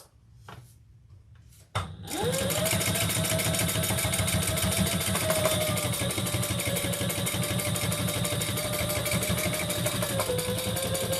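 After a soft rustle, a sewing machine starts with a thump and runs a handbag seam in one continuous, even, close-up whir with a rapid regular needle beat for about nine seconds, with no talking.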